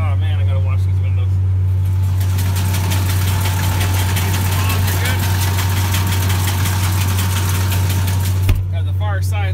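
A tractor pulling a hay baler through second-cut grass hay, its engine a steady loud drone with constant mechanical rumble and clatter running for nearly the whole stretch, then cutting off abruptly near the end; a voice talks over it.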